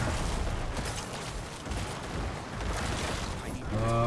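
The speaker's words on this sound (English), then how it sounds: "Get some corpse explosion in there." Chaotic, dense bursts of explosions and crackling from a corpse explosion necromancer build in Diablo 4, continuous game combat noise throughout with a tonal effect near the end.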